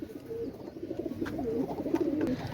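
Golden pigeons cooing close by, a continuous low throaty warble of overlapping coos rising and falling over about two and a half seconds, with no talking.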